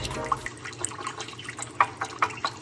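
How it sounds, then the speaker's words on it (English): Olive oil and lime juice dressing stirred in a bowl, a run of soft liquid sloshes and light clinks at an uneven pace, close and moderately loud with no talking. "So I'm gonna go ahead and stir this real good."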